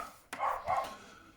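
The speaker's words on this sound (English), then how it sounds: "Sorry about the dogs." A dog barks indoors, two quick muffled barks in a row at moderate distance, fairly faint and alone.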